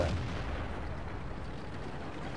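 A heavy tank gun fires in World of Tanks during a match on the British tank destroyer test server, one loud booming shot with a long rolling tail.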